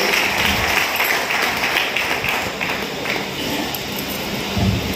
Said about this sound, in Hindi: एक बार जोरदार तालियां हमारे लिए तो बजाती है।